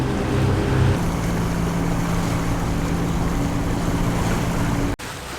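Aboard a Lagoon 380 catamaran off Dubrovnik, a steady rushing wash of water and wind surrounds the hull while it rocks, with a low engine-like hum early on and a brief dropout near the end.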